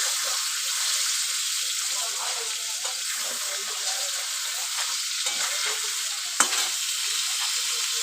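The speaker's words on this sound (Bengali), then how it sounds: "দিয়ে আমি এটাকে ভালো করে ভেজে নেব।" Food frying in a pan with chili powder, making a steady even hiss with soft intermittent stirring scrapes and one sharp knock, moderately quiet throughout.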